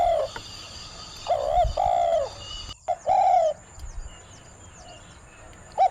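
Several rounds of dove cooing with brief pauses between them, alongside scattered bird chirps outdoors in rice fields in Sakon Nakhon, Thailand.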